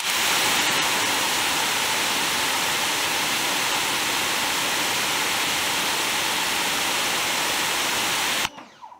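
A pressure washer for car detailing blasts through a white 40-degree nozzle at roughly 800 PSI, a loud, steady rushing hiss that holds without a break and then cuts off abruptly near the end.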